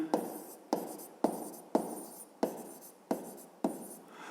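Pen strokes on paper during a physics lesson, seven quick rhythmic scratches in even succession, close and crisp, with no voice over them.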